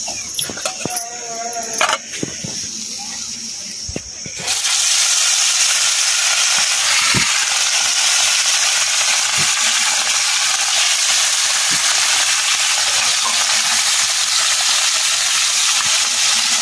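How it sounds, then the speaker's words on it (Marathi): Food frying in hot oil for a quick recipe: a loud, steady sizzle and crackle that fills the space, preceded by a few seconds of kitchen clatter and handling sounds. "एक लगेच तळून घेऊ."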